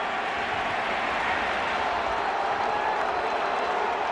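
A large baseball crowd at Fenway Park applauds steadily, a dense continuous wash of clapping and crowd noise that stays loud and even throughout, with a faint murmur of voices beneath.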